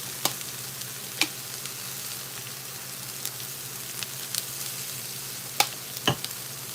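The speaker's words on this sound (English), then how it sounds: "we're going to add the oregano leaves into the onions and stuff that way." Oregano leaves fry with onions in a pan, a soft constant sizzle broken by a handful of sharp crackles and pops spaced unevenly.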